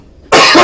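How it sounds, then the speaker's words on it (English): A single loud, harsh cough bursts out after a moment of near silence, close to the microphone, from a commentator during an amateur tournament match. "I need to cough"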